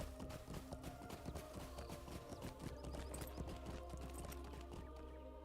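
Video-game horse hooves clip-clop in a quick, steady run, faint and distant under a low background drone, with a possible brief whinny.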